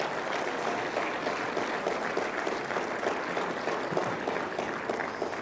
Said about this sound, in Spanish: les damos un fuerte aplauso más.